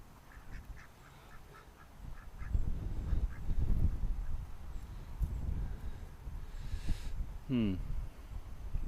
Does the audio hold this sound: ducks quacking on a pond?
yes